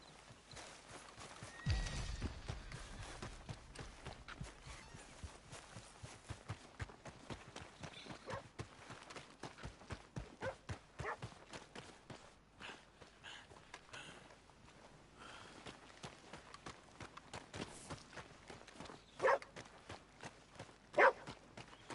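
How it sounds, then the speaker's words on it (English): Horse hooves clip-clop at a steady walking rhythm in the Red Dead Redemption 2 video game, close and moderately loud, with a few sharper game sounds mixed in. "That's a nice horse."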